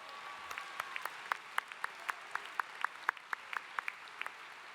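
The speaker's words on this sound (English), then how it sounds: "Please give them a round of applause." Audience members clap at a high school graduation ceremony, sounding as sparse, fairly quiet, distant claps that repeat in a loose steady rhythm without a full roar.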